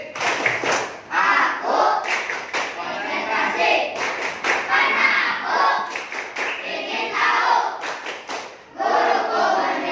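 A classroom of pupils claps in unison along to a chanted focus routine, with repeated rhythmic bursts of hand claps mixed with children's chanting voices, close and loud throughout.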